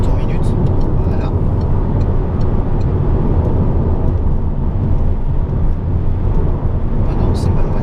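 A 2011 Peugeot RCZ 1.6 THP accelerates on the road, a loud, continuous engine roar and road rumble heard from inside the cabin with a steady, dense texture.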